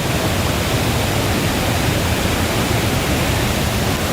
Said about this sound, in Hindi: बारिश का पानी बहुत तेजी से बहता हुआ और देखिए झरने का रूप धारण कर चुका है